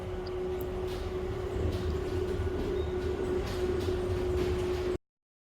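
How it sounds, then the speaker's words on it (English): An airport terminal train runs to Concourse B at Dubai airport, a steady rumbling ride with a constant motor hum and faint rattles inside the carriage, then abrupt silence. "The train was super fast"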